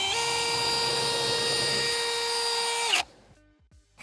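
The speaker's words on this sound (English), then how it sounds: "we're just gonna drill a hole." A power drill bores a hole through the shingles of a roof at the cross point of a chalk line and a stud while solar panel flashing goes in. It whines loudly and steadily for about three seconds, then stops abruptly, leaving faint clatter.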